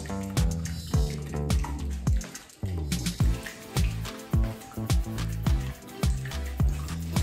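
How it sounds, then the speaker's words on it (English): Batter with melted butter whisked in a bowl, a close series of rhythmic wet slaps and squelches with a short pause partway through, loud and repeating at a steady pace. "And I'm going to whisk this as it asks."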